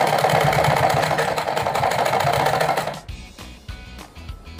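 A sewing machine stitching a straight seam on folded fabric for a fancy lehenga chunri, loud rapid mechanical clatter for about three seconds, then stopping into quieter short bursts and handling knocks.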